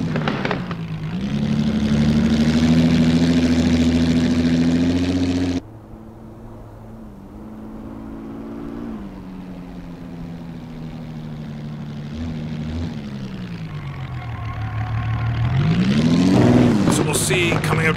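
Napier Railton race car in Assetto Corsa accelerating at Goodwood, its big engine droning loudly with rising pitch through the gears, a sharp cut at a shift, then a long climb in revs to a roaring peak.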